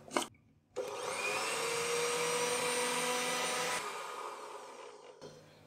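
A kitchen mixer grinder grinds tandoori spice powders, whirring loudly and steadily for a few seconds, a high motor roar with a brief clatter before and after, then stops.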